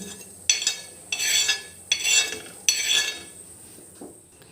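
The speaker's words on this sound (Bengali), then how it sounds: "এবার দেখো এই বাটির মধ্যে এগুলোকে নামিয়ে নিচ্ছি" Fried ingredients, cooked until black for a hair remedy, scraped from a pan into a bowl: four bursts of metal scraping and clinking, each about a second long, close and fairly loud with brief pauses between, and no talk.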